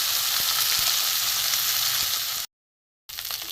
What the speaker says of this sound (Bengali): চুনো মাছগুলো একটু ভালো করে ভাজা হবে, কড়কড়ে করে।